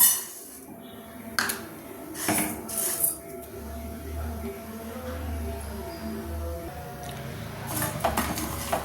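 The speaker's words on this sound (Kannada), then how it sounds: "ಒಂದು 3/4 ಭಾಗ ಆಗೋವಷ್ಟು ನಾವು ಸಣ್ಣ ಉರಿಯಲ್ಲಿ ಅಕ್ಕಿನ ಫ್ರೈ ಮಾಡ್ಕೊಬಿಡ." Rice is stirred as it fries over a low flame in a pan on a stove for a sweet recipe, with a spoon scraping and clinking against the metal in irregular bursts, close and moderately loud.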